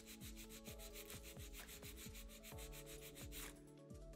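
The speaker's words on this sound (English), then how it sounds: "My first step in filing is straight out from the nail groove on the left." A nail file rasps against a fingernail in quick, regular back-and-forth strokes, close and fairly quiet, with no talk.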